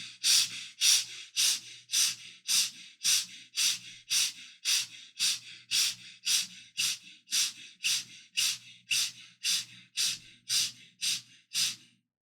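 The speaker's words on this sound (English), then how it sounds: "breathing quick and short and gentle breathing from the chest." Quick, short, gentle breaths drawn into the chest, a steady run of about twenty soft airy inhale-exhale puffs at an even rhythm, close and alone.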